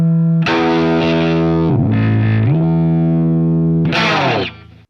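Guitar played through a Digitech Whammy DT pitch shifter set a fifth down, giving loud distorted sustained chords with a lowered harmony, a brief change of chord midway and a fresh strum near the end, with no talk.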